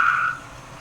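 A small frog gives one short, bright trill near the start, fairly close and clear, then quiet rainforest background for the rest.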